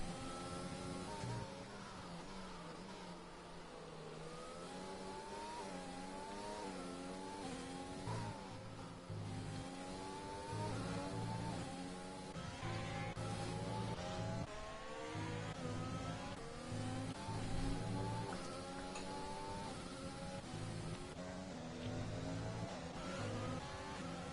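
McLaren race cars in a racing video game, engines revving and whining through gear changes as one car overtakes another, a continuous layered drone of several cars close together.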